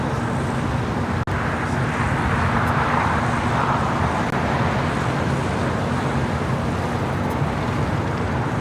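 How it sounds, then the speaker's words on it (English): An Air Tahiti Nui Boeing 787 Dreamliner taxis at LAX toward the Tom Bradley gates, a steady broadband engine rumble and hiss blending with airport and road noise, continuous and moderately loud with one brief dropout. "Tahiti Nui, the Dreamliner, making that left-hand turn, now heading into the gates of Tom Bradley."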